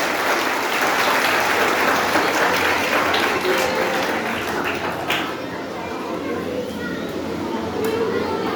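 Audience applause for teachers at a school annual result day ceremony, a dense steady wash of clapping from a large crowd lasting throughout, with children's voices mixed in.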